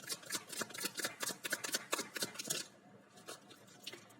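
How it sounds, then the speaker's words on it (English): Tarot cards riffled and shuffled by hand during a love reading, a rapid run of crisp papery snaps and flutters, close and fairly quiet, easing off toward the end with no talking. "You can skip ahead if you don't want to see the shuffling."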